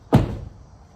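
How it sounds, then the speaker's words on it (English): The rear door of a 2011 Ford F-150 shuts with a single solid thunk, sharp and close, then a short decaying rattle into quiet. "Door closed."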